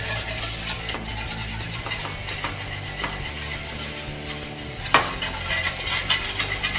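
A whisk scrapes browned bits off the bottom of a pan with wine, clinking and stirring in a steady, close rhythm over a soft sizzle, with one sharper knock near the end.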